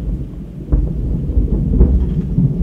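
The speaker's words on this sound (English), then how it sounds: "that thunder is something else. You hear that?" Low rolling thunder rumbles steadily, swelling in a couple of deeper surges over a background hiss of rain, with no one speaking.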